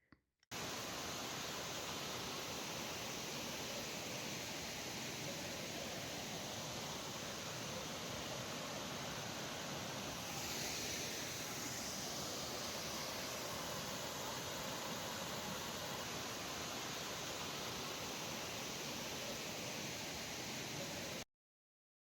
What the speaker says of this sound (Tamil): இதுதான் செம்மையான ஃபால்ஸு.